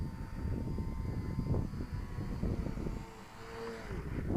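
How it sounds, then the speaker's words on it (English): Small radio control Mini Yoyo model aeroplane flying outdoors in wind on a maiden flight, its electric motor buzzing steadily, rising and falling as it passes, with light wind noise throughout. "What a lovely little aeroplane."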